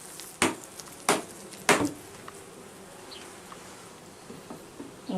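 Honey bees crowd a hive super, their steady buzzing hum running throughout, broken by three sharp wooden knocks early on and a few lighter clicks of handling later; no voices.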